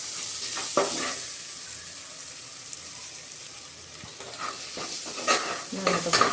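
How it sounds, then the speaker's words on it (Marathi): Chopped coriander sautés in a pan with spices for Indrayani masala rice: a bright, steady sizzle broken by occasional scraping stirs, fairly close and with no voices. "कोथिंबीर परतून झाली थोडी"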